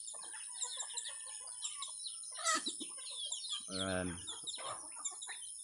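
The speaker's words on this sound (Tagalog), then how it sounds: "Ayan mga manok ko guys, kunti na lang." Backyard chickens clucking in soft, scattered calls with a louder throaty burst midway, close by under a man's brief speech.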